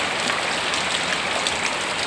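Heavy rain pours steadily during a downpour in Andhra, with water flowing into a house, making a continuous dense hiss of rain and rushing water, close and loud throughout.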